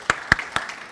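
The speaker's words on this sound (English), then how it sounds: "So let's give Assemblymember Michael Blake's office a big round of applause." Brief scattered claps from an audience at a tech summit, a few sharp separate hand claps, fairly faint and sparse over less than a second.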